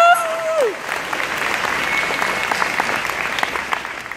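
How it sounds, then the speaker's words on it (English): Audience applause for a teacher at a fifth grade promotion ceremony, a steady wash of many hands clapping that follows a brief voice at the start and carries evenly to the end. "can we please have a round of applause for Mrs. Finn?"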